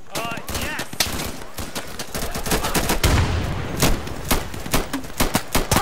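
Rapid gunfire in the tactical shooter Insurgency, loud close bursts of automatic fire and single shots hammering in irregular rhythm, with a heavier rumbling stretch in the middle.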